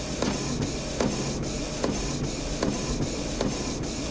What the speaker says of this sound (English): it will go straight to my edible printer and print out that pattern using the edible ink